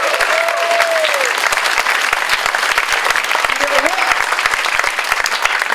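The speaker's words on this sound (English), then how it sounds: "We're going to applause for Helen, who's put this on." Audience applause at an evening of talks, a loud, dense and steady patter of many hands clapping throughout, with a brief whoop or voice rising over it.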